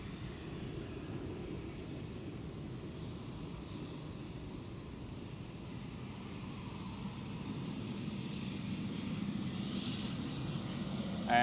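A Boeing 777 taking off at Schiphol Amsterdam with an early rotation, a distant low engine rumble that gradually builds louder toward the end, alone and without voices.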